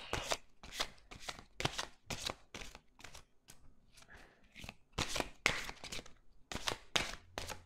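Tarot cards shuffled by hand in rapid, rhythmic riffling bursts, a dozen or so crisp sweeps close by but soft, with no talk over them.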